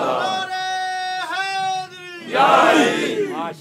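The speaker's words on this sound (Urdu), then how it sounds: "تو ہم یوں ہی نعرے نہیں لگا رہے." A crowd chants religious slogans in loud, sustained calls. One long chant gives way to a rougher, fuller burst of many voices near the end.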